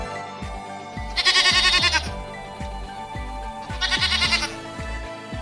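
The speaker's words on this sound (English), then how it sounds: "This is goat." Repeated goat bleating in two loud, wavering bursts, each lasting under a second, over a steady background of rhythmic music with a thumping beat.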